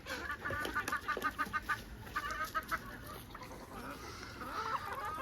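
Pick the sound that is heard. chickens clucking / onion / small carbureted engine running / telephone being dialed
chickens clucking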